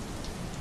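Steady rain falls in a dense, even wash of noise for a short moment, with no pauses, voices or other sounds.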